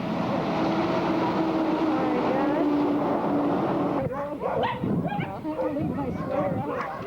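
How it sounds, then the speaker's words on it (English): A crowd of dogs in Alaska barks and yips over steady rumbling noise, the chorus turning busy and excited in the second half, with people talking among them. "Look at all the dogs."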